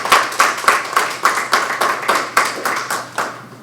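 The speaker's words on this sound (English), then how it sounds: "give yourselves a round of applause for being here today" A small audience at a local business training session claps in a steady string of distinct, separate hand claps, fairly close and loud, with no talk over it.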